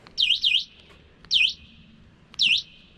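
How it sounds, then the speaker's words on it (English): An RZ FlyEbike's alarm chirps in short, shrill, warbling bursts from its small built-in Bluetooth speaker, repeating in an irregular pattern, close and tinny. "the alarm siren is this Bluetooth speaker"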